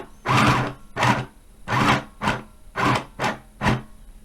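A mini sewing machine stitches through paper in a straight line, running in about seven short, even mechanical bursts separated by brief pauses, close and moderately loud with no talking.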